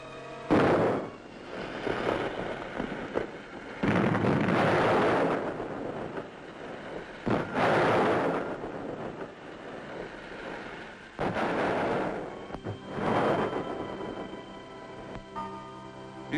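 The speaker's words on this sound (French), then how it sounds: "le souffle des explosions désagrège ces maisons depuis longtemps abandonnées" Mine blasting near an abandoned mountain hamlet in 1950 coal country. Several long, rumbling blasts roll out one after another, each a broad roar that swells and fades, with no voices.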